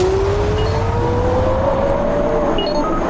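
An Audi 200 and a Lexus, both five-cylinder cars, race side by side, their engines roaring loud and steady as the pitch slowly climbs while they accelerate.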